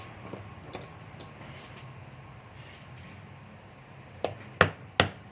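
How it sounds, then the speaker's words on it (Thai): A hammer strikes a rivet setter into a leather phone case, a few light taps at first, then three sharp, loud knocks close together near the end over a quiet room hum. "เพื่อตอกลูก"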